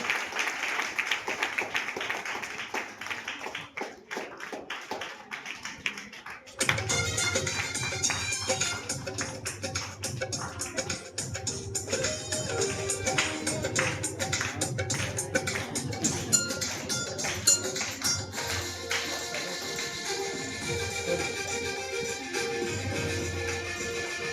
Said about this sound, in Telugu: గట్టిగా చప్పట్లు కొడదాం అందరం కూడా